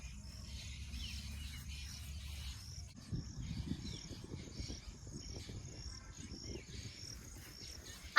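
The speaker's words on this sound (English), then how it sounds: "I can hear a lot of chirping of birds" Faint, repeated high chirps from birds in Jharkhand wetlands, steady and somewhat distant, over a low background rumble with insect-like trilling.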